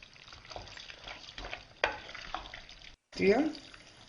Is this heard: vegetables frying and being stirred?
yes